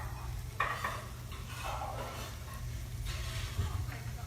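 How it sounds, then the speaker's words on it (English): Panko-coated pickled green tomatoes sear in a pan with a soft, steady sizzle, punctuated by a few utensil clinks and stirring scrapes close by. "And they're just searing. You want to sear them till they get nice and brown."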